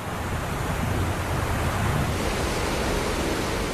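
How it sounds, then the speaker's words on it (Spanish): Massive torrent of Niagara Falls plunging into the turbulent Niagara River, a steady dense roar of rushing water that holds constant and loud throughout with no pauses. "En tan solo un minuto, más de 135 millones de litros de agua caen sobre el turbulento cauce del río Niágara."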